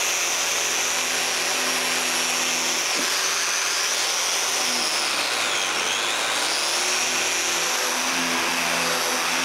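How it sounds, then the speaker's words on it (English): Raised wooden panels are sanded with a power sander that gives a continuous whirring drone, steady and fairly close, its pitch wavering slightly as the tool moves across the wood. "When I'm done, I sand all the raised panels."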